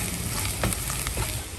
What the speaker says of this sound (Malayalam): നന്നായിട്ട് ഇളക്കാം.